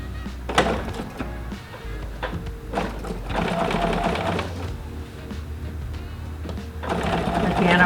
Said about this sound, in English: I'll just move a little bit past where I finished sewing before.